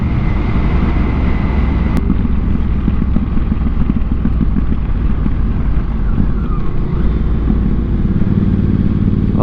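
A KTM motorcycle rides along a road in Northern Ontario in the fall, its engine giving a close, continuous low rumble with a wavering pitch under heavy wind buffeting on the microphone.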